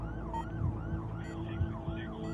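An ambulance siren sweeps up and down in a steady wailing cycle, fairly near and moderately loud, with a rumbling vehicle engine underneath and a couple of short electronic yelps.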